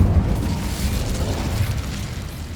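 An Incendio fire spell bursts in Hogwarts Legacy with a loud, deep whooshing boom that opens strongly, then settles into a rumbling roar that fades gradually.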